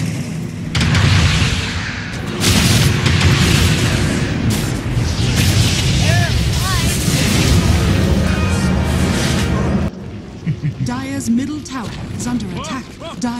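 Dota 2 match audio with a tower being destroyed: a dense, loud stretch of booming, crumbling impacts and bursts that runs continuously for about ten seconds, then drops to lighter scattered clatter and effects.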